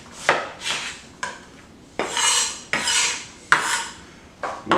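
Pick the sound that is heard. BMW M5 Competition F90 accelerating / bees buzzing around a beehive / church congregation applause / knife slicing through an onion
knife slicing through an onion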